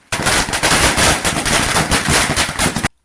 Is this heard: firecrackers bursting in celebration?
yes